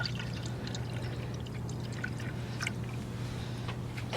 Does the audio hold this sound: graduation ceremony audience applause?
no